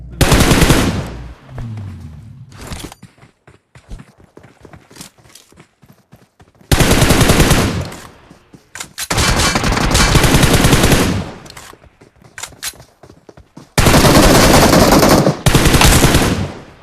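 Video game gunfire in loud, sustained machine-gun bursts that stop and start, with long stretches of rapid automatic fire broken by scattered single shots and quieter gaps.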